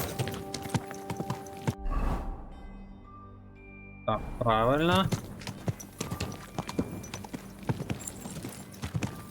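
Horse hooves clip-clop steadily in Kingdom Come: Deliverance 2, a clear rhythmic plodding with a wavering whinny partway through, while someone talks at intervals over it.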